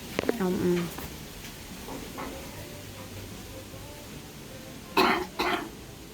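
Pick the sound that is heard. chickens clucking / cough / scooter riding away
cough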